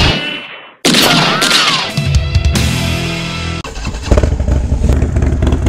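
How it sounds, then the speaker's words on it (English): A Harley-Davidson motorcycle on winding mountain roads roars loud and close, revving up through gears with a shift-drop midway, its engine rumble steady and continuous. "bike's been running great today"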